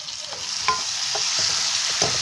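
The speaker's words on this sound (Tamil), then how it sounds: "இதோட மிக்ஸ் பண்ணிக்கொள்ளணும்." Chicken devil with sugar mixed in is stirred in a frying pan: a constant close sizzle with several soft scraping strokes spaced about half a second apart.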